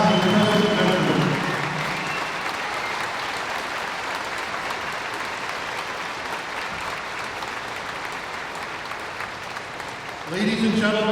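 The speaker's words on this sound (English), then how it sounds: "a big round of applause for our past and present veterans" Sustained applause from a large crowd honouring past and present veterans at a Remembrance Day ceremony in an arena, steady and full for several seconds before fading as voices return near the end.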